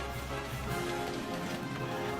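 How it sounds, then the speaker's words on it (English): A heavy rainstorm with hail pours down in a city, making a dense, steady roar of drops striking surfaces with no let-up. "The heavy rainstorm, accompanied by hail, created a horrifying scene."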